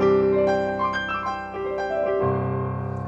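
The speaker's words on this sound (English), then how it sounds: "So it's quite a nice bright stage piano sound." A Yamaha S4 Studio Grand sample with a bright stage piano tone plays a few sustained chords and single notes, clear and close with a ringing decay, no voices.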